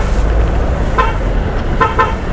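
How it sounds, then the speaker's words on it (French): Traffic jam at the Sacré-Cœur roundabout, with loud, steady close engine rumble and two short car-horn toots standing out over the congestion, no talk. "L'embouteillage est monstre au rond-point Sacré-Cœur."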